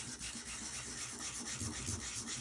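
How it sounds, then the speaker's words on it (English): Steady, raspy hand sanding on chalk-painted wood, a continuous scratchy rubbing with slight back-and-forth swells, close by and fairly quiet, with no voices. "just sanding it back, roughing it up"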